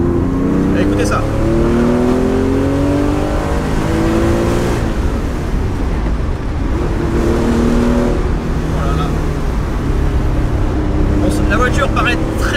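A Porsche 911 Carrera 2.7 RS Touring's air-cooled flat-six engine pulling hard under load from inside the car, a loud continuous rising drone with gear changes, with a voice talking over it.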